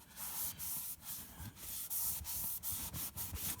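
Plastic is rubbed with a damp homemade cleaner, producing a soft, repeated scrubbing swish in rhythmic back-and-forth strokes, close and fairly quiet.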